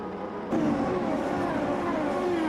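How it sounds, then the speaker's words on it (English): In the Automobilista 2 racing game, a safety car circles the Daytona oval, its engine rising suddenly into a steady, fairly faint whirring drone that slowly falls in pitch as it goes by. "And the safety car is coming around."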